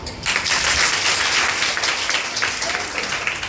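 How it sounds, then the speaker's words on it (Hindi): Audience applause bursts out after a brief quiet start and holds as a steady, dense wash of many hands clapping through the rest, with no clear talk over it. "तालियां"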